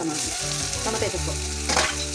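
Tomatoes with ginger paste, coconut and green chillies fry in a pan for a green sorrel curry, giving a dense, close, steady sizzle with a few stirring scrapes.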